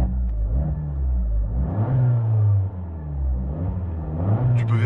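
Abarth car engine revving at close range, a steady low rumble swelling and easing as the throttle rises and falls, with no voices over it.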